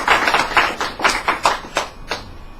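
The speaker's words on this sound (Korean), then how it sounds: "큰 박수로 모셔주세요" Applause from an audience at a monthly cooperative forum, welcoming a speaker; a few nearby hands clap in a loose, uneven rhythm, about seven distinct bursts that thin out toward the end.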